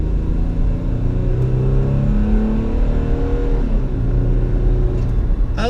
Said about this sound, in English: give a little pedal to the metal stuff here, see how fast it gets up to speed